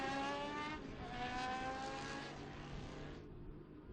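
A historic race car at the Estoril Classics passes on the track, its engine note rising and falling in a harmonic whine that fades away over a few seconds. Nobody speaks.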